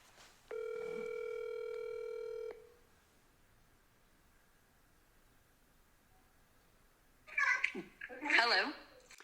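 Telephone dialing during a cold call: a steady electronic telephone tone for about two seconds, then quiet line hiss, followed by a brief burst of distant voice sound near the end.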